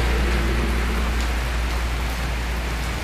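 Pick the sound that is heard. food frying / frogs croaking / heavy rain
heavy rain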